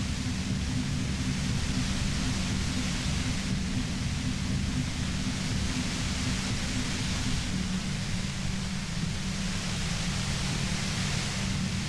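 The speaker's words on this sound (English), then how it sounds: "You hear through the white noise. It's especially bad suddenly." Radio static hisses in the video game Disco Elysium as a dense, even wash of white noise. It stays loud and unbroken from start to finish, with no voices over it.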